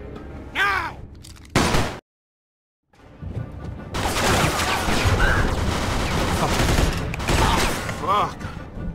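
Gunfire erupts during a Mafia II cutscene shootout, with a loud burst of shots early on and then sustained, dense firing filling most of the scene amid shouting voices.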